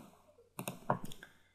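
Mouse clicks while selecting OK in Fatek PLC ladder programming software, a couple of quick, close, faint clicks in a quiet room.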